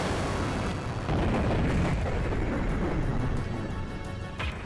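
A massive cannon on the Yggdrasil ship fires in the Xenogears video game, a loud, sustained roaring blast with a deep rumble that swells and then rolls on for several seconds without talk.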